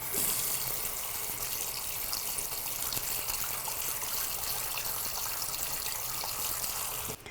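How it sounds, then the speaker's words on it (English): Tap water runs steadily into a sink while a paintbrush is rinsed, a continuous close gushing splash that holds evenly for several seconds before cutting off at the end. "You're gonna want to dump your water, turn your water on"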